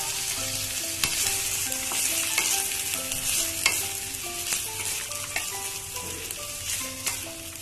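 Soaked chickpeas fry in hot oil, hissing in a steady close sizzle while a spoon stirs and scrapes the pan with intermittent sharp clinks, no one talking.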